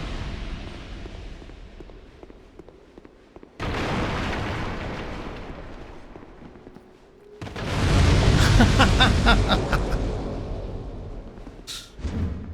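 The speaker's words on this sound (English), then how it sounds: "They crawl at you and they explode." Crawling enemies explode in Dark Souls II, each one a loud, deep blast with a long rumbling decay, heard twice several seconds apart, the second heavier and followed by crackling debris.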